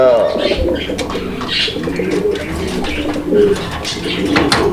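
Pigeons coo steadily on a pigeon farm, a dense, close, low warbling chorus that runs the whole time, with some voices talking faintly underneath.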